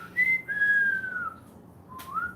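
A person with dry lips whistles a few thin, wavering tones, one long sliding note followed by a brief pause and a shorter rising whistle, close and alone.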